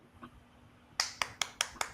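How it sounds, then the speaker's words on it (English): Five quick, sharp hand claps ring out close by in an even rhythm after a second of quiet room tone. "you get a hand clap from me"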